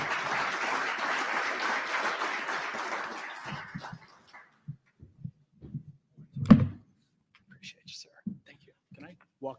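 Audience applause welcoming keynote speaker Bruce Townshend, a full, steady round of clapping that fades out after a few seconds, then gives way to scattered nearby speech and small handling noises.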